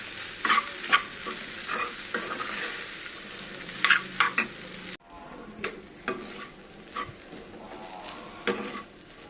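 A spoon stirs carrot, egg and fenugreek rice in a pan, making repeated scraping and clinking strokes against the metal over a low sizzle. The strokes come in uneven bursts, and there is a short pause halfway through. No voices.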